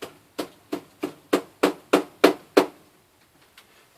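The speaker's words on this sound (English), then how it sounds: "I'm just nailing them in one at a time and seeing how it works." Staples hammered in one at a time during an oven repair: nine sharp, evenly spaced hammer strikes close by, growing slightly louder, then a pause with faint taps.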